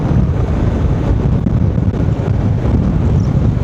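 Constant heavy wind roars across the microphone while riding a Honda Forza 750 scooter, a loud steady rumble without a break.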